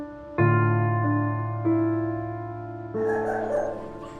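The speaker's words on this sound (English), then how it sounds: "She's an elderly dog." An elderly dog whimpers and whines in a series of high, drawn-out tonal cries, several sustained notes shifting in pitch with brief breaks between them, close and fairly loud with no talking.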